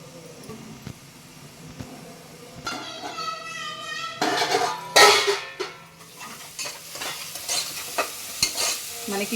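Onions frying in a pan for a country chicken curry, a close sizzle with scraping stirs and clinking of a spoon against the pan, a brief voice-like tone partway through.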